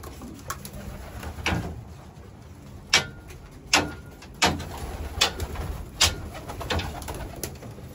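Racing pigeons at the loft give repeated low coos and bursts of wing flutter close by, spaced irregularly over a quiet background, with a few louder thumps mixed in.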